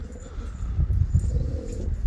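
Pigeons coo softly and close by in low, rolling murmurs that continue throughout, with faint background noise.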